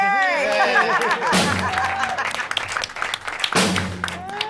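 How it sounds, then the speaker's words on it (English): Audience applause fills a comedy club show, a burst of clapping and laughter under voices and chatter, fading then swelling again. "You can clap for that."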